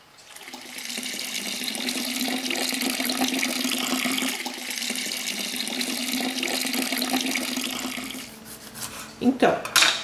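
Ten litres of water pour steadily into a filter bucket for homemade soda in a trailer, a continuous loud gushing that stops near the end, followed by a few knocks and splashes.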